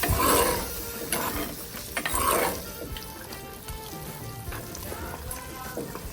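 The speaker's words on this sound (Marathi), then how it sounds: "काय मस्तपैकी एकदम उकळ आले बघा" A pot of country chicken curry bubbles and simmers up close, with a few louder stirring scrapes and clatters near the start.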